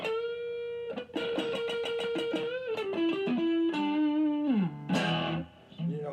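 Electric guitar through an amplifier with distortion, playing a series of plucked notes and a descending run that ends in a bright, ringing strum, close and loud with no talking.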